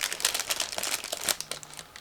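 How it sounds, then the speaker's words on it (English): A sealed plastic bag from a 1/35 scale plastic model kit being torn open, giving close, busy crinkling and crackling with a few sharper crunches throughout, alone without talk. "Okay, so I opened the first plastic bag."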